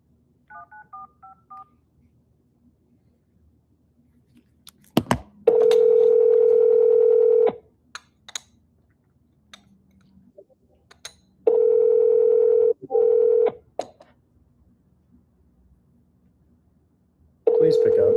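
A phone keypad beeps out a quick string of dialing tones, then a ringback tone purrs in long, evenly spaced bursts with silence between them, loud and close, as a call goes unanswered.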